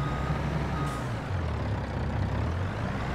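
Truck in Farming Simulator 22 backing up, with steady repeated reversing beeps over a dense low engine rumble and a brief hiss like an air brake, no talk.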